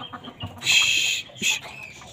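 Aseel chickens cluck and squawk in two short bursts, close by, with a little shuffling between calls.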